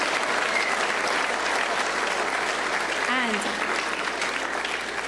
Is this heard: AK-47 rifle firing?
no